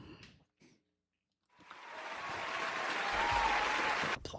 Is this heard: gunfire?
no